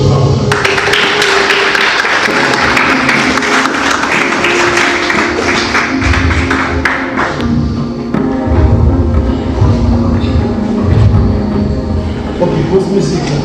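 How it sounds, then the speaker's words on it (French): An audience applauding a director at a special simulation session, a dense wash of clapping that holds for several seconds and then thins and fades as a murmur of voices takes over. "Je vous demande d'abord d'applaudir le directeur Chauveau."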